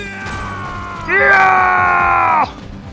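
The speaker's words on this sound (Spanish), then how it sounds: "Tarzán de unos gritacos, chaval" Tarzan lets out a loud, sustained jungle yell in the Kingdom Hearts video game, a tonal wavering cry lasting over a second against game background sound.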